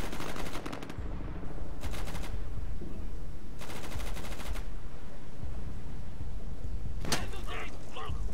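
Gunfire in the video game Insurgency on the District map: a few stray rifle shots crack loudly over a dense, steady battle background, with bursts spaced a second or two apart and a sharper report near the end.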